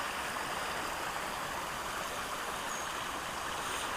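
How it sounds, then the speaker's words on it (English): Steady rushing roar of a waterfall in RHS Harlow Carr Gardens, a broad continuous wash of falling water close by with no voices over it. "This would be the waterfall itself that I heard then."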